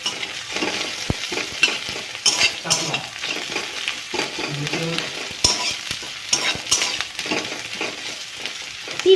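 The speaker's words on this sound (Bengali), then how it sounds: "আমি কিন্তু পেঁয়াজ ফোড়ন দিয়েছি, পেঁয়াজটা একটু ভাজা ভাজা হয়ে যাওয়ার পর আমি কালো জিরে দিয়ে দিয়েছি" Chopped onion and nigella seeds sizzle in hot oil as the base for a fish curry, stirred now and then with a utensil scraping the pan, a steady close frying hiss throughout with no voices.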